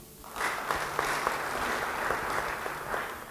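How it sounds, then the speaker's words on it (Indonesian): A church congregation gives a short round of applause during a sermon, many hands clapping at moderate volume in a roomy space, steady for a few seconds with no talking. "Beri tepuk tangan."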